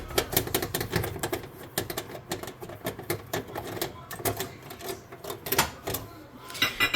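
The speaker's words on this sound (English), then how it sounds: "You're gonna remove this screw." A screwdriver backs a screw out of an over-stove microwave, making a rapid series of close, sharp ticking clicks that keep going throughout with no talking.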